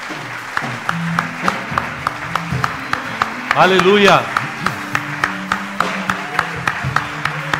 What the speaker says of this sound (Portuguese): Vamos aplaudir Jesus porque Ele merece.